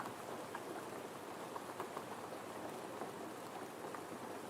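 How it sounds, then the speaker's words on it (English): Rain ambience played as background for a reading session hisses in a steady, dense patter of drops, even and continuous at moderate volume, with no voices over it. "We got our rain. We're turning it up a little."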